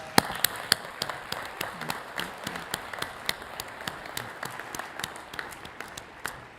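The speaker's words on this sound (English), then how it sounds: "I think it's okay to clap." Scattered, fairly quiet applause from a University of Pennsylvania commencement crowd outdoors on a hot day, loose individual claps rather than a dense ovation, steady across several seconds.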